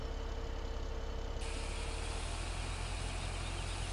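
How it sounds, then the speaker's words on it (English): A tractor engine in Farming Simulator 17 runs at a steady, low, throbbing idle, then rises in pitch and intensity as it revs up partway through, close and continuous with no talking. "Okay, listen to the engine. Hear how it's kind of a low RPM now?"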